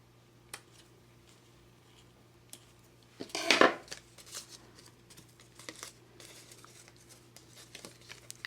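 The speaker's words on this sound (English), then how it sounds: "let me just cut off the excess twine" Excess twine being cut off a handmade candy holder, with one clear snip followed by faint rustling and small handling clicks in a quiet room.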